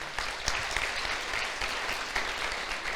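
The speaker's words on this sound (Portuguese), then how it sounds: "Se tu entendeu, aplauda o Senhor." Church congregation applauding for about three seconds, a dense, steady wash of clapping with no gaps, moderately loud.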